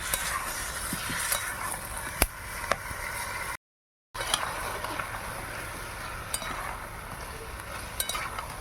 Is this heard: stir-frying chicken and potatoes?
yes